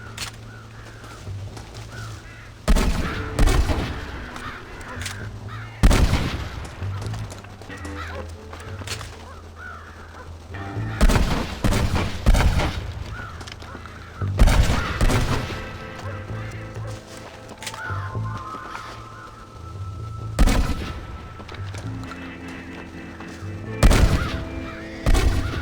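Gunfire in the Red Dead Redemption video game: several sharp, loud broadband shots spaced across the stretch, each followed by a ringing tail, over a steady in-game musical and ambient bed.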